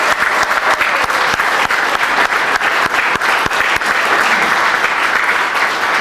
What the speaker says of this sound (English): if we could give her a quick round of applause, I'd appreciate it